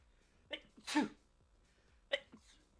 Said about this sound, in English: I feel like I haven't sneezed in a long time